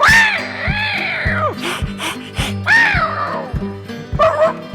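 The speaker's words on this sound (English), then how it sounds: "No, that wasn't a wildcat, that was a dog, wasn't it?" A dog yips and barks in close, loud bursts, with rising and falling whining tones repeated several times over a steady rhythmic background.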